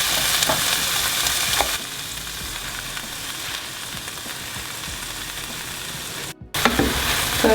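Peppers and golden onions frying in a pan are stirred through, giving a loud continuous sizzle with scraping stir strokes and a brief break near the end.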